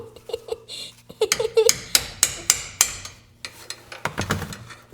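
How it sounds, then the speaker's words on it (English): Metal hammer blows ring out in a quick series of sharp, loud strikes on a stuck part of a 1919 Model T during an oil change, about a dozen in a few seconds, with faint clatter between them. "gonna beat it with a hammer"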